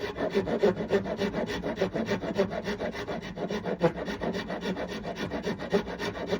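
A rasp shapes the wooden neck of a cigar box guitar with rapid, rhythmic rough scraping strokes, close and steady throughout with no talk.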